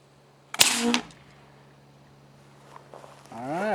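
A single sharp shot cracks from a homemade high-powered PVC air gun fired at a wooden pallet, followed by a brief rattle, then quiet before a voice begins speaking near the end.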